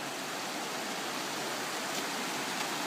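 Rushing water from new waterfalls on Shofar Mountain, a steady, dense, broadband roar that holds constant throughout with no talk.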